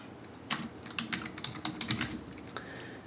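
Someone typing a command on a Linux computer keyboard: a quick, irregular run of crisp close key clicks, loud and alone against a quiet room.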